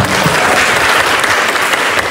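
Scouts clapping hands at the opening of a Pramuka scout camp at a vocational school: loud, dense, continuous group applause filling the whole moment, close and sustained.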